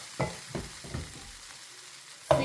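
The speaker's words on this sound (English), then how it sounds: "Now add your washed rice. Stir and allow to toast for 3 minutes." Washed rice with seasoning cubes toasting in a hot pan is stirred for fish fried rice. A low, continuous frying hiss sits under a few spaced spoon scrapes, with a louder scrape at the end.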